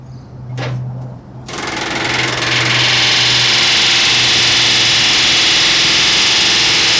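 Riveting wrought iron plates during repair of a historic bridge: a couple of short bursts, then a loud, continuous, harsh pneumatic hammering rattle that runs on without a break.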